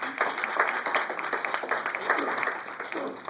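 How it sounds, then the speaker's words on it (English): Steady applause from an audience at a St. John's University event, many hands clapping continuously at moderate loudness with no talk over it. "You might want to have another round of applause"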